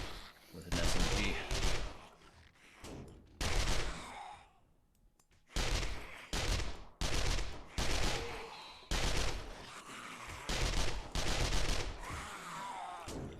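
Submachine gun fire in the video game 7 Days to Die, heard as repeated loud bursts of automatic shots separated by short pauses, with a quieter gap near the middle.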